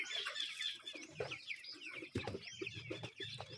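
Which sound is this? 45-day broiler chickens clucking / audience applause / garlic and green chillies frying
45-day broiler chickens clucking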